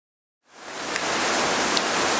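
Sudden rain begins after a brief silence and swells quickly into a steady, loud, broadband hiss of falling water.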